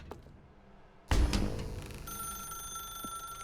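A telephone ringing in the video game The Stanley Parable, a sudden loud ring starting about a second in and then a steady high electronic tone holding on, with no talk.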